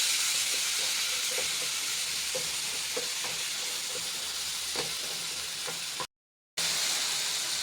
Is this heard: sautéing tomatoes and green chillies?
yes